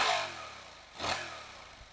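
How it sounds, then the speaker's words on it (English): A motorcycle's exhaust note, recorded close to the exhaust, idles with a low rumble and a brief swell near the middle, fairly quiet with some clatter and no talking. "walk close to the exhaust and see if it can capture any kind of exhaust note into this microphone."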